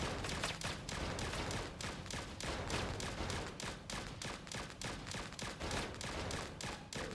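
Rapid bouncing-shot blasts fire in the arcade video game Berzerk Recharged, a dense run of sharp, evenly repeating electronic gunfire bursts that continues steadily throughout.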